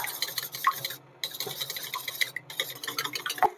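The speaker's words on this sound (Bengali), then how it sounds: "এবার এটাকে একটু ভালো করে ফেটিয়ে অমলেটটা বানিয়ে নিতে হবে।" Eggs with a pinch of salt being beaten for an omelette, a quick run of light clinking taps of utensil on bowl in uneven bursts, close and fairly faint, with short pauses between strokes.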